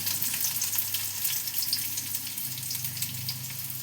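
Chopped onion, with other chopped aromatics, drops into hot oil and fries with a steady, close hissing sizzle that runs evenly throughout, no talking.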